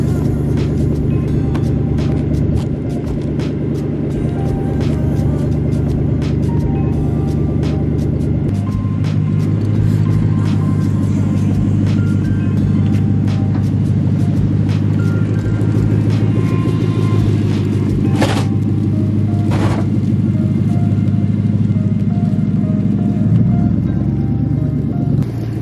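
A Lexus LS400 with a raised floor rolls out of a driveway, its engine giving a steady, loud idle and low rumble that shifts pitch midway and continues throughout.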